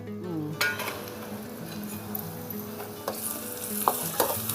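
Onions frying in oil with turmeric in a pan over a small village stove, a close, steady sizzle broken by repeated scraping stirs and a few sharp utensil clinks, with faint background noise.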